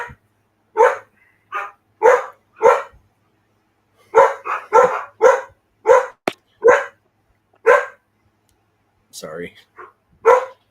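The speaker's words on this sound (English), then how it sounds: "these dogs like to make a lot of noise at night" Dogs bark loudly and close by in a string of sharp single barks and quick doubles spread across about ten seconds, with quiet gaps between them and a brief spoken word partway through.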